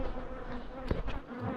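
Honey bees buzz softly and steadily around hives, a low droning hum with a louder pass or two as insects fly close.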